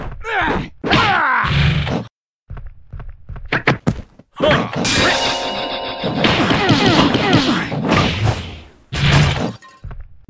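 Heavy thuds, smacks and crashing impacts trade back and forth in a Wing Chun versus Muay Thai bout in the fighting game Shaolin vs Wutang 2, loud and dense in clustered flurries, with brief grunts between blows.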